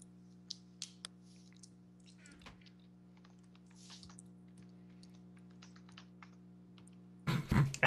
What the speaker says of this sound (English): Angrily typing